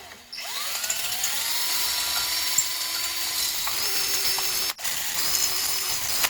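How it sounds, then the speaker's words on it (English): Rust being worked off the lower ball joint of a 2014 Kia Rondo with a tool, a steady mechanical grinding whir running continuously at close range, briefly cut off near the end before resuming. "So what we're going to do is just file it away quickly."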